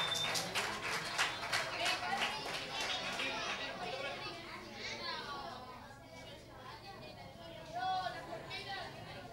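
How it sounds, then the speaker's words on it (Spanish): At a children's summer campus closing ceremony in Rota, a burst of clapping for Sergio opens and soon thins out, giving way to children's chatter and crowd babble. "Un aplauso para Sergio."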